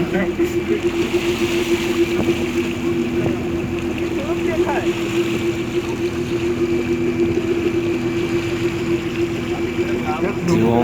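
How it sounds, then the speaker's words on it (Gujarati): A fishing boat at Vanakbara, Diu, approaching with a steady droning engine hum and water noise throughout, a constant mid-distance motor tone, with voices talking faintly in the background. "આ સુરેશ વાળી બોટ આવતી રહે"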